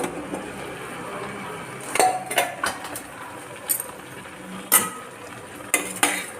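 A metal lid being lifted off a pot of coconut sodhi, with several sharp clinks and clanks of metal against metal between quieter kitchen rustling, close by and with no talk.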